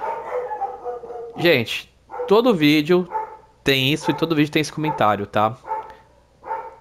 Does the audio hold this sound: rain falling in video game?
no